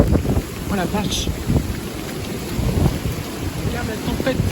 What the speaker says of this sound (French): Regarde la tempête.